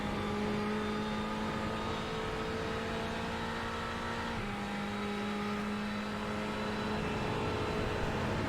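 Racing car engines howl steadily in a video game race, a loud continuous drone with a sustained high engine note and slight pitch shifts as the car holds speed, no talk.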